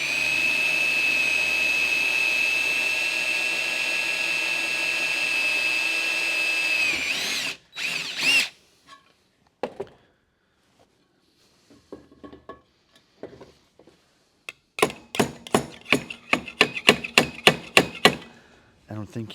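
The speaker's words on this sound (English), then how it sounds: "Always think twice before you drill." A power drill bores through sheet metal for an Art Deco lamp, a loud steady high whine running for several seconds before cutting off, followed by scattered clicks, taps and brief rattling handling noises.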